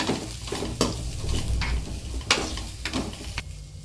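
A mixture with boiled chana sautés in a pan for chana masala gravy, its low sizzle broken by frequent scraping strokes and metallic clinks as a spoon stirs it nearby.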